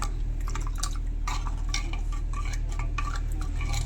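Milk and curd are stirred in a clay pot, with a spoon scraping and clinking in quick uneven strokes against the earthenware over a steady low hum.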